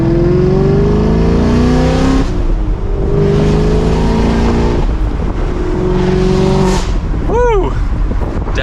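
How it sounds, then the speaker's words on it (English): A 2023 Chevrolet Camaro 2SS convertible with the top down rumbles steadily through its exhaust while driving, the engine note rising and falling in long sustained pulls at close range, with a voice talking over it. "It's a beautiful day to have this top down, beautiful day to listen to this exhaust."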